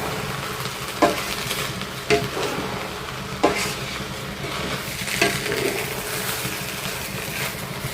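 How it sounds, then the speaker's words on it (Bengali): Chicken stir-fried in a spice masala for morog polao, with a continuous loud sizzle broken by regular scraping stirring strokes about once a second. "এখন এটা হচ্ছে ভালো করে মশলার মধ্যে কষাবো, মানে ভাজা ভাজা করব"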